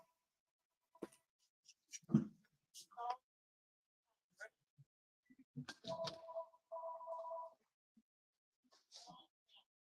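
Two short bursts of electronic ringing come from a telephone in a quiet room, set among scattered small noises and a person speaking quietly.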